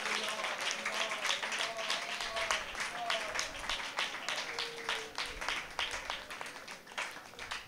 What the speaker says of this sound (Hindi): जोरदार ताली बजाकर आप परमेश्वर को धन्यवाद करें।